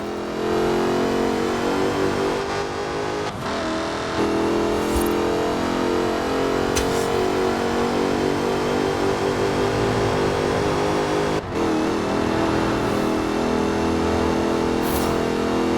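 Jaguar Project 7 engine in Forza Horizon 4, a loud sustained rev with a rich mid-range growl, briefly dipping around gear changes before pulling hard again, continuous throughout with no talking.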